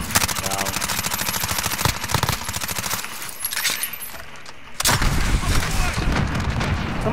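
Automatic gunfire in Call of Duty Modern Warfare, rapid bursts of shots rattling through the clip with a short lull before heavier, louder fire resumes near the end; voices talk faintly underneath.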